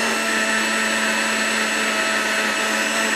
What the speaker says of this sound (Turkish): Şimdi bunu güzelce robotta çekiyorum.